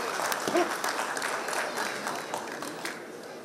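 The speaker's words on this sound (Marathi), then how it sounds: "टाळ्या कमी पडत आहेत, सर्वांनी टाळ्या वाजवा जोरदार" A crowd at a Mumbai Police staff retirement ceremony applauds in a steady, sustained wash of clapping, moderately distant, with voices murmuring underneath.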